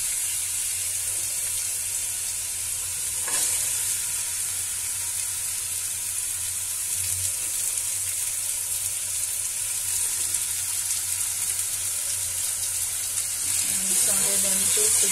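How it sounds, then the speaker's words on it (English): Onion and cabbage sautéing with ginger and garlic in a pan for momo filling, a steady close hissing sizzle with a few brief stirring sounds. "So now with the onion, I'll just quickly add the cabbage."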